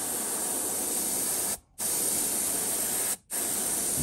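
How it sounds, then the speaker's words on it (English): A paint spray gun hisses out silver sealer onto a fishing lure in steady bursts, the loud, even spray cutting off twice for brief pauses before resuming. "we'll go ahead and give it a test spray"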